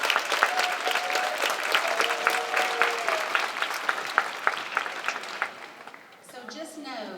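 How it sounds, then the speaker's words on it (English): A banquet audience at a senior career tech ceremony breaks into sustained, dense applause, many hands clapping loudly and evenly before it fades out at the end. "Can we give them a round of applause before they receive it?"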